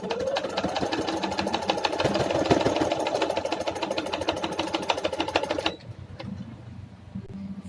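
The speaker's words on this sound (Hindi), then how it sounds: "अब हम इसमें सिलाई कर रहे हैं" Sewing machine stitching piping onto a kurta, a fast even mechanical rattle of needle strokes running close and loud, then stopping abruptly near the end, leaving quiet room noise.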